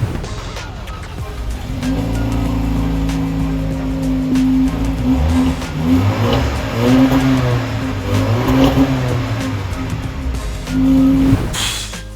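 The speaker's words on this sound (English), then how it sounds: "these dual exhausts which are real and sound pretty amazing" A 2019 Jaguar XF Portfolio sedan's dual exhaust engine revs repeatedly, the pitch climbing and falling over a steady idle rumble, loud and close behind the car with no talking.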